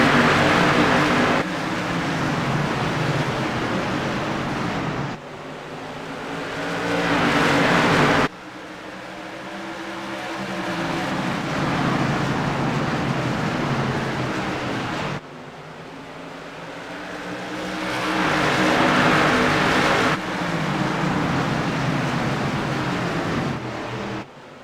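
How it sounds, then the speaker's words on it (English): Race car engines roar in the iRacing sim at eStafford Speedway as cars run three wide into turn one, a loud continuous howl that rises and falls in pitch in repeated waves as the pack passes. "The only thing better than the roaring of these engines is the smell of the gasoline"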